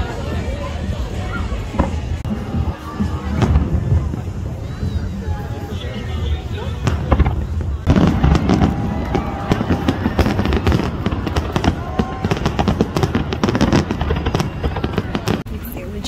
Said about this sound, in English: We just left the fireworks